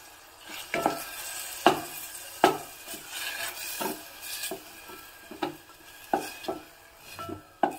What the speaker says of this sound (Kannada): ಸ್ವಲ್ಪ ಉಪ್ಪನ್ನು ಹಾಕಿಬಿಟ್ಟು ಹುರ್ಕೋತಾ ಇದ್ದೀನಿ, ಯಾಕೆಂದರೆ ಟೊಮೊಟೊ ತುಂಬ ಚೆನ್ನಾಗಿ ಸ್ಮ್ಯಾಶ್ ಆಗಬೇಕು